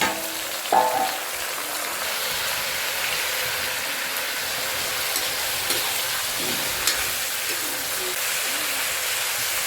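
Jackfruit pieces tipped into a pan of browned fried onions for a rural Nepali jackfruit curry, giving a steady sizzling hiss from start to finish, with a brief louder burst as the pieces go in and a few faint clinks.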